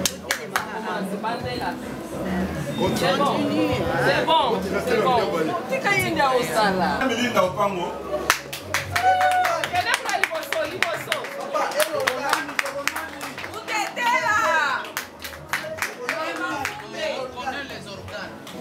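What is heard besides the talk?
audience applauding the women editors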